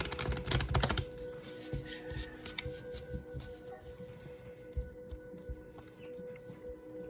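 Tarot cards are shuffled close by in a quick flurry of crisp riffling and slapping at first, then come softer scattered card taps and shifts.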